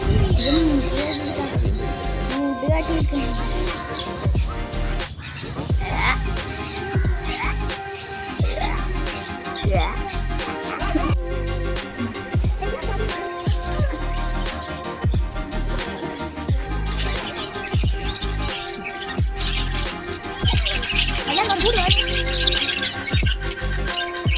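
Several birds squawk and call over and over amid a busy, noisy background at an animal farm, some calls sharp and close, others overlapping throughout.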